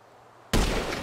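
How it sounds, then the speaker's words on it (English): A single loud gunshot in Grand Theft Auto V, cracking abruptly out of near silence and leaving a broad ringing tail that carries on for a moment afterward. "And now I'm taking a shot."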